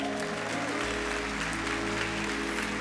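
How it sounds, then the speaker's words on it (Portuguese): A church congregation claps together in sustained, dense applause, loud and continuous from start to finish, with a low steady hum from the sanctuary underneath. "Alguém pode aplaudir isso, igreja?"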